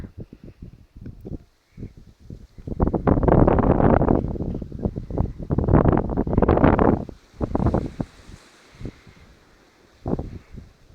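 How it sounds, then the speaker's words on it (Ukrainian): Heavy wind buffets the microphone in loud, rumbling gusts that come and go, with quieter gaps between the blasts and no voices. "Зараз трохи вітряно, через те даруйте за звук."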